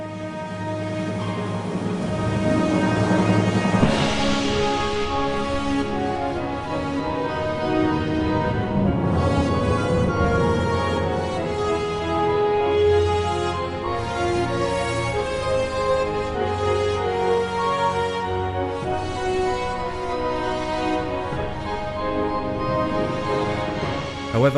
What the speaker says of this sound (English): Instead, we got a rehashed MIDI version that sounds like this.